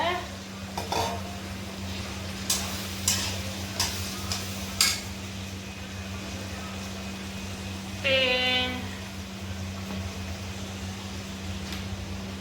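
Potatoes stirred into roasted spice masala in a pan for aloo gobi: a few scattered scrapes and clinks over a faint steady sizzle and constant low hum, with a brief chirping tone near the end.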